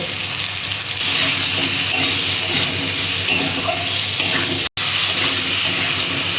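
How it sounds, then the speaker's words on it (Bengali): Potatoes seasoned with salt and turmeric fry in a pan with a steady, loud, dense sizzle that runs almost the whole time, broken by one sudden silent gap near the end. "দিয়ে আলুগুলো আমি ভেজে নেব"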